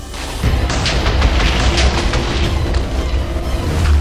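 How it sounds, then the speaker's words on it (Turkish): Explosions rumble on in the Minecraft video game, a dense stretch of deep booms and rolling blasts that stays loud and steady throughout, with no talk over it. "Bak hala patlamalar devam ediyor."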